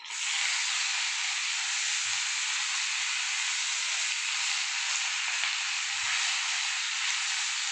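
Pumpkin leaves fry with whole garlic cloves and green chilies in a loud, steady hiss that stays up close and unbroken throughout, with a couple of soft low knocks.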